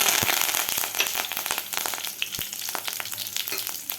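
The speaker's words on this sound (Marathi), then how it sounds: "कढीपत्तासुद्धा व्यवस्थित फ्राय झालेला आहे" Curry leaves crackling and spitting in hot oil with mustard seeds and cumin, dense close sizzle with sharp popping bursts, loud and continuous without speech.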